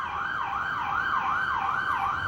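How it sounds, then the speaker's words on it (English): A police car siren wails in a steady rising-and-falling cycle, loud and close throughout, with no voices over it. "after the sirens go by"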